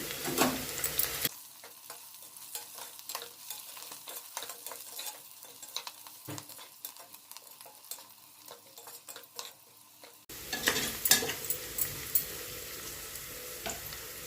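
Curry leaves stir-frying in a pan for tomato bath, with garlic paste, giving a steady crackling sizzle and frequent scraping stir strokes, quieter in the middle and livelier toward the end; no voices.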